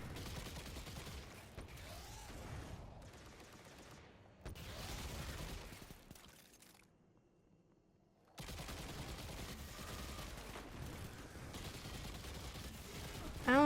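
Hunter's weapon fire in Destiny 2 during a Grandmaster Nightfall, repeated bursts of shots with mechanical reload clicks, broken by a near-silent gap midway before firing resumes.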